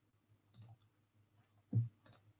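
Mouse clicks on a run button, a few faint, sharp taps close by in a quiet room, spaced irregularly.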